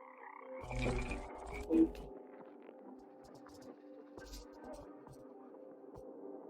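Frogs croak from a bucket in a low, throbbing chorus, with a strong burst of croaking early on that fades into a faint, steady hum.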